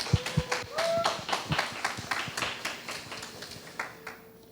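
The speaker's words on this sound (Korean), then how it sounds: "우리 다시 한번 권정 학생 뜨거운 박수로" Applause from a congregation at a high-school youth worship service at a church, a burst of claps with uneven rhythm that thins out over a few seconds, with some voices mixed in.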